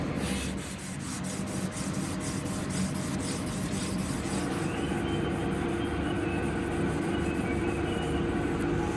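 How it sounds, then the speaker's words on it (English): A buffing wheel loaded with fine compound polishes a small brass habaki for a katana made from an old saw blade, giving a steady, dense rubbing rasp that runs the whole time, loud and close, with no voices. "I'm using a buffing wheel with a fine compound."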